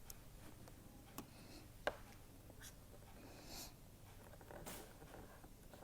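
Pen or marker scratching out a chemistry reaction diagram, faint intermittent strokes with one sharper tap, very quiet and close in a hushed room.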